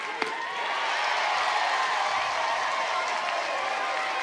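A crowd at an NCAA college softball game between Alabama and Kentucky keeps up a steady, dense roar of cheering and clapping from start to finish, with one sharp knock near the beginning.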